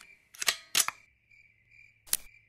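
Airsoft gun shots ring out during an outdoor airsoft game: three sharp, clustered cracks with brief double snaps, over a steady insect-like whine in the background.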